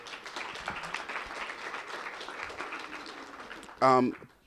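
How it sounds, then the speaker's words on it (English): A modest group at a professional-dress presentation gives the students a round of applause, fairly quiet and steady clapping, with a brief louder tonal sound cutting in near the end. "Let's give them a round of applause."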